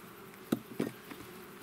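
Honey bees at a warm beehive on an apiary, heard as a faint, soft buzzing hum with a couple of brief louder passes as individual bees fly close.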